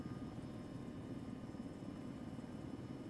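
Steady droning rotor and engine hum of an H-60 helicopter in a flight simulation game, continuous and fairly loud with no talk over it.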